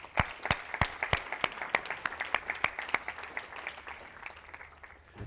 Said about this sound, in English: Big applause for Chris, everyone.